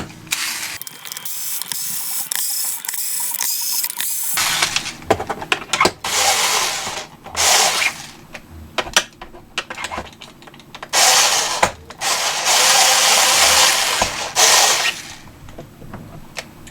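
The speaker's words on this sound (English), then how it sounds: "first thing we're gonna do is disassemble the halves, and there's quite a number of screws here" Screws are backed out to split the two halves of a Prometheus gun front end, giving bursts of ratcheting, clicking screwdriver turns and small metallic handling noises, close and repeated with short pauses.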